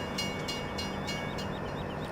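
A train rumbles past with steady broadband noise and faint rhythmic clatter, fairly close and continuous, with no voices, in the video game Farming Simulator 17.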